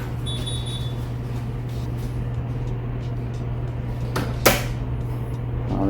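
A door on a self-closing hinge swings shut and latches with a single sharp clack near the end, heard over a steady low hum of background noise.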